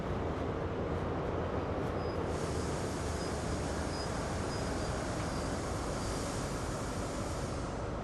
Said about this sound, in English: You can hear that train going over the points.